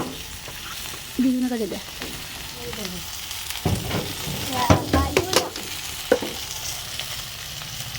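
Food fries in oil in a pan with a steady background sizzle as it is stirred and tossed. Scraping and clatter of the utensil come through clearly, and someone speaks over the cooking.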